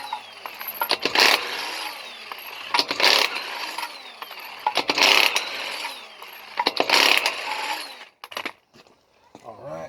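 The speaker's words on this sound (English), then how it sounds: "we can run these lug nuts off" Lug nuts being run off a Toyota 4Runner wheel during a flat tire change, with loud bursts of ratcheting tool noise repeating at a steady rhythm, close up, followed by a quieter stretch at the end.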